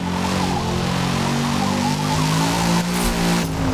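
A race car's engine drones and shifts pitch as it's driven around a track in Forza Motorsport 2023, a loud, close, sustained tone that climbs and drops briefly near the end.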